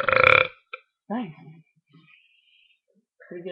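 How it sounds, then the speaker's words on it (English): A person burps on demand: one strong, close belch opens the clip, followed by brief voiced sounds and softer follow-up noises, then another short vocal burst near the end. "Pretty good burps."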